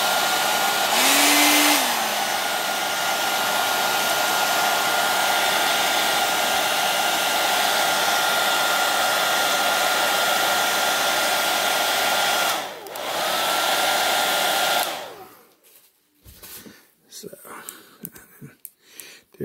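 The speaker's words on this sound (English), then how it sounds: "I'm going to take the hairdryer one more time just to make sure we get it nice and warm" A hair dryer blows with a steady, loud, breathy roar for about fifteen seconds, changing pitch briefly, then cuts off, leaving scattered small handling noises. It is warming a custom 1/18 scale action figure.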